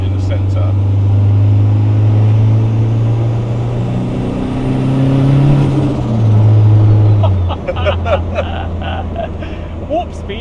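Volvo 940 turbo engine revving loudly and close, the droning note climbing and falling as the turbo spools with a rising whistle, then settling toward a lower idle while people talk.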